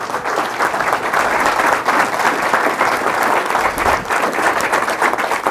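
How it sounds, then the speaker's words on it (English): Audience applause at a Chino, California city council meeting honoring a young boxing champion: steady, dense clapping fills the room throughout at moderate loudness, with no talking. "let's give him a round of applause"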